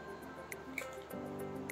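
Raw egg dropping onto shredded cabbage in a bowl for a low-carb cabbage egg pancake, giving a few soft, wet squishes and drips that are quiet and close over faint background noise.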